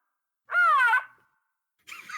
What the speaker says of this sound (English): It's a rhino.